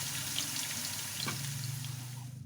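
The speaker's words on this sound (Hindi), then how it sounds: "तो इनको में हमने हल्का सा सौते करना है, इसका कलर चेंज नहीं करना।" Green onion whites sautéing lightly in a pan for chicken fried rice, a steady close sizzle and crackle with a low hum underneath, no talking.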